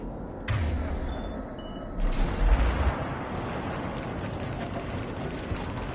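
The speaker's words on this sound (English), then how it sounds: "Gunfire. They are near." Sharp gunshot bursts and heavy thuds from a Mass Effect 3 firefight in the 2021 Legendary Edition on PS4 crack over a dense, steady wash of ambient game noise, with a couple of louder impacts standing out.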